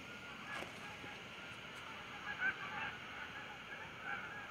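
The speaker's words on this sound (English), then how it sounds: "I hear some geese." Geese honk in scattered calls over a broad river setting, faint and distant beneath steady wind and flowing water, with a few brief louder honks standing out from the background wash.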